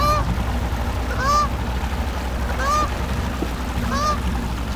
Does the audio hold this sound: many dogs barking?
no